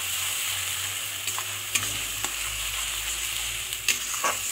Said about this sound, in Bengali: এখানে মশলাটাকে কিন্তু ভালো করে কষাতে হবে, খুব ভালো করে কষিয়ে নিতে হবে